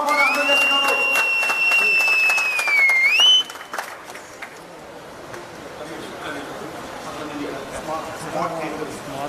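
An audience claps at an event where phones and wheelchairs are handed out to disabled people. A brief rising electronic tone comes first, then scattered applause continues under a speaking voice.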